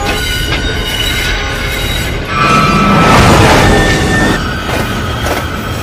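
A train rumbles loudly nearby, swelling as it draws closer, with a bright metallic squeal rising over the steady roar of wheels on track.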